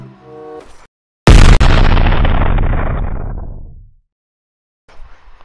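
A single loud, close hunting-rifle shot in Fortnite cracks and booms, then its long echo fades over about three seconds, with brief game noise before and after.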